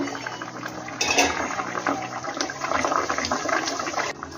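A covered pot of ruhi fish curry with raw mango has been boiling for five minutes. The lid is lifted with a metallic clank, releasing loud bubbling and simmering liquid before another clink near the end.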